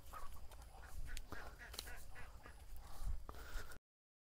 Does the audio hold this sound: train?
no